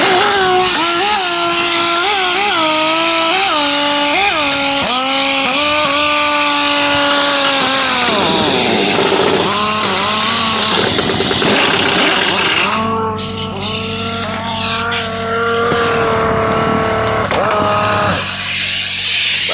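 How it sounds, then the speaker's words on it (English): A pneumatic impact gun works car wheel nuts loose during a DIY coil spring swap, its buzzing motor whine rising and falling in several long close bursts with short pauses between, loud and with no talk. "And bust the wheel nuts off."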